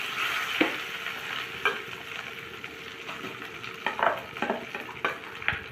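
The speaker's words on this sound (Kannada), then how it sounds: "ಇಲ್ಲಿ ನಮ್ಮದು ಚಟ್ನಿ ಒಗ್ಗರಣೆ ಆಗ್ತಾ ಇದೆ" Ridge gourd chutney sizzles in hot tempering in a pan, a steady frying hiss broken by several louder stirring scrapes and spits, close and alone.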